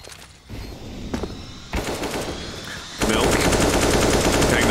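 Automatic rifle fire from an AK in a CS:GO match on the Mirage map, rattling in short bursts that build to dense sustained shooting in the last stretch, loud and close.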